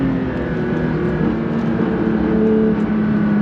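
A 2024 Porsche 911 S/T with a six-speed manual accelerating on throttle, a loud steady engine drone heard from inside the car with no talk.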